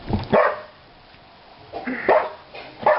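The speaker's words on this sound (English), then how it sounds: "Don't worry, it's only the dog." A dog barks in a few sharp, loud bursts, close by, with brief whimpering yips between them and a quiet gap in the middle, in a home where the dog is reacting to a toy train.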